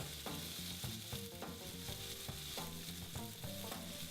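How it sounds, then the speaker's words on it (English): Beef searing in a hot pan gives a steady, close sizzle with a bright hiss, alongside rhythmic tonal sounds that resemble background music. "you wanna get a nice sear on the sides. This will keep in the juices."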